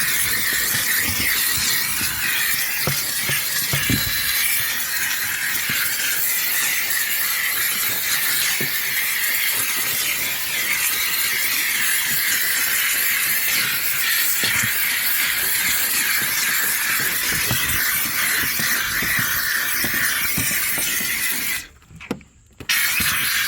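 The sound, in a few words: steam cleaner blasting steam while detailing a car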